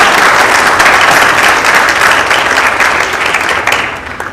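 Loud, dense applause from a school concert audience, a full room clapping steadily for several seconds before tapering off at the end, with no talking over it.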